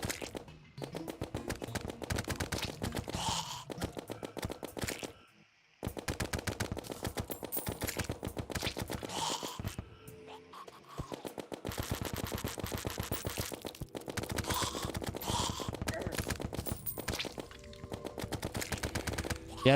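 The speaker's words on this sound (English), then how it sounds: "If you have the money, Mini Shark is more sustained fire." Rapid sustained bullet fire from the Mini Shark gun in a video game, a fast machine-gun stream running nearly continuously with a few short pauses, fairly quiet.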